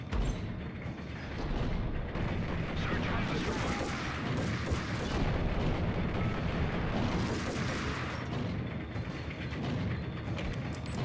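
Dense, continuous gunfire from the video game Max Payne, heavy bursts and shots layered into a loud, unbroken barrage with no pauses across the whole stretch.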